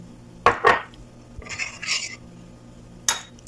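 A spoon clatters and scrapes in a frying pan while whole corn and cream corn are stirred together, a few sharp knocks followed by softer wet stirring, close and without talking.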